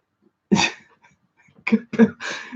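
A sneeze rings out sharply at close range, followed a second later by a few quick sniffs or catches of breath.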